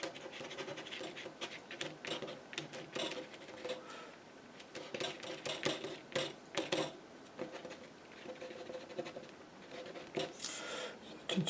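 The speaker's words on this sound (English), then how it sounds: "get a card, and we just scrape into this a little bit" A card scraped across wet paint on a painting surface, giving a run of close, rough scratchy strokes with short pauses between passes, no voices.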